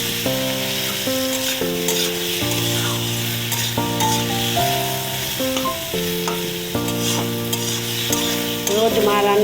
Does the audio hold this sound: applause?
no